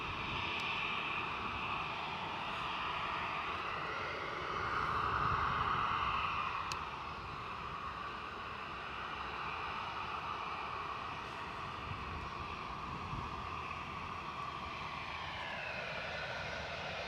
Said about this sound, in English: American are pushing. So we've got American Airlines doing the right thing and getting us away on time